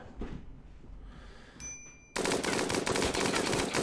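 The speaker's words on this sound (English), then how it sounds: "it's permanently injured, so I'm going to shoot it to death." Gunfire in the video game RimWorld as a colonist shoots an injured animal: a sudden loud burst of rapid shots cuts in after a quieter stretch with a brief ding, then continues densely to the end.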